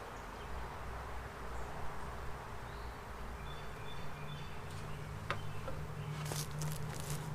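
A swarm of honey bees hums around their hive, a dense continuous buzz close to the microphone with a few individual bees droning past, no talking.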